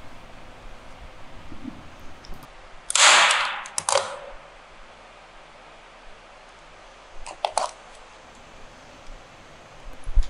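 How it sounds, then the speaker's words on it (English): Staple gun driving staples through canvas into a work board: one loud sharp snap near the start, a second smaller clack soon after, then a few fainter clicks later, with no talking. "Let's put in a couple more staples, just for good measure."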